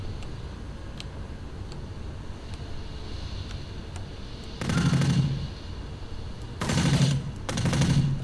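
AK rifle fire in the 2003 video game Kill Switch: three short bursts over a steady rumbling game background, moderately loud and close, each lasting under a second.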